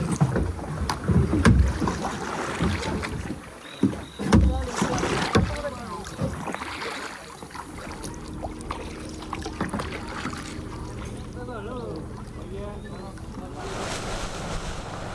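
Small tourist boat on the water in northern Vietnam, with wind buffeting the microphone, water sloshing and a low motor hum, as voices talk and bumps sound early on.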